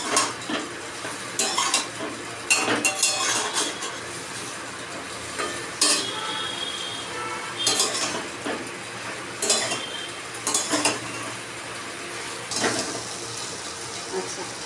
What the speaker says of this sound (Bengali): এটাকে আরেকটু কষতে হবে